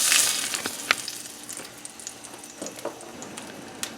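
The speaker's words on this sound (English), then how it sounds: "Deglaze with a little white wine." Vegetables sizzle and crackle steadily in a hot pan as white wine is added to deglaze, with soft scattered pops and clinks throughout.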